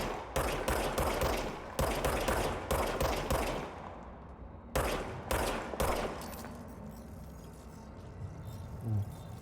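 An automatic gun in the action game Control fires in rapid bursts, with loud, close clusters of shots and short pauses between them. The shooting stops partway through and quieter game ambience remains.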